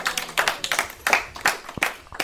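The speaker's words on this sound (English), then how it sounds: "ladies and gentlemen, just to prove that you're here, give yourselves a nice round of applause." A small audience claps for itself on cue, a loose ripple of separate hand claps with irregular rhythm, fairly close and moderately loud, no talking over it.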